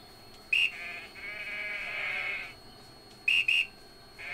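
Sheep bleat in the farming game EverDream Valley: two short, sharp, loud bleats near the start, then a longer wavering call in the middle, then two more quick bleats near the end, with no talking.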